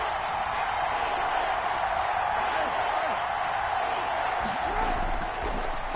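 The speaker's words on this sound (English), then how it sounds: "The crowd getting into it as we come up on a big 3rd down" Stadium crowd at a Ravens football game in Madden roars steadily ahead of a big third down, a dense, sustained wash of cheering with no clear breaks.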